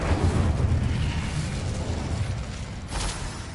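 An Incendio fire spell is cast in the Hogwarts Legacy video game, giving a loud roaring, whooshing burst of flame that fades over a few seconds, with a short flare near the end.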